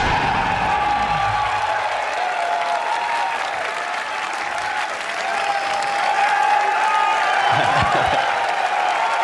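A large crowd at a gaming presentation applauds and cheers continuously, a dense roar of clapping and whoops that holds steady throughout and swells slightly toward the end.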